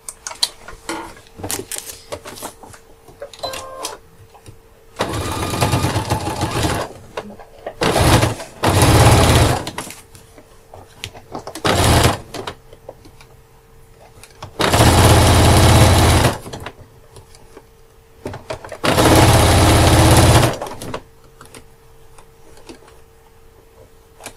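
A sewing machine stitches the flap of a fabric backpack in several loud, close bursts of rapid whirring, separated by quieter pauses of handling.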